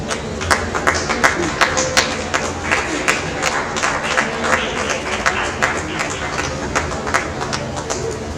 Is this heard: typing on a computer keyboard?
no